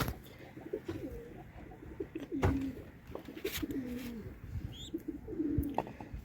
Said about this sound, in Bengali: আমার এখানে যতগুলা দেশি কবুতর বাচ্চা হয়েছে এর আগে এতগুলা একসাথে হয় নাই